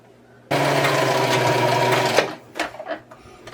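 A sewing machine stitches a quarter-inch seam joining fabric pieces of a Christmas tree quilt block potholder. It runs as a continuous, close, loud whir for about two seconds, then stops, followed by a few soft handling clicks.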